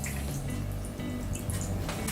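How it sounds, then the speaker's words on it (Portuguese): Water is poured into a spoon of soy sauce to thin a marinade for chicken, a steady close splashing trickle that lasts about two seconds, with no talking. "Eu estou a acrescentar na mesma colher mais 50 ml de água"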